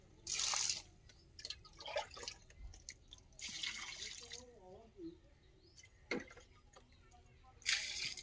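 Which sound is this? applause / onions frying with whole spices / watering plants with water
watering plants with water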